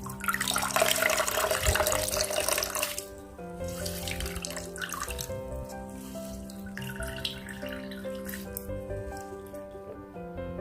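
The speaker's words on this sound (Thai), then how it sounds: "แล้วเราก็บีบเอาแต่น้ำนะคะ" Juice squeezed from kaffir limes drips and trickles steadily into a container at close range, with a stronger liquid rush at first easing into a thinner stream.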